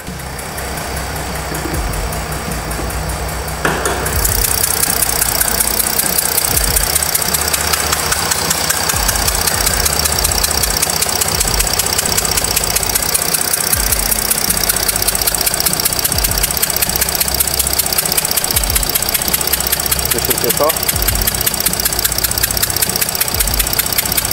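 Steady idle of a Jeep 3.0 V6 engine with exhaust blow-by under an injector, a rough, knocking rumble, loud and close, starting up after a brief lower hum and running continuously without speech.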